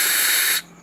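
A spray is aimed at the engine of a Honda Vario motorcycle to find a leak. It gives one strong, steady hiss for just over half a second, then cuts off abruptly into quiet.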